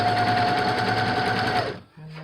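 Sewing machine running steadily while stitching a T-shirt quilt, a dense rapid whirring chatter at close range for about a second and a half before it stops, leaving a brief low hum.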